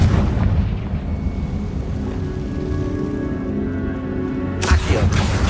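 A Bombarda spell explodes inside a tomb in the video game Hogwarts Legacy, heard as a heavy, rumbling blast that lingers and is followed by a sharp second burst near the end.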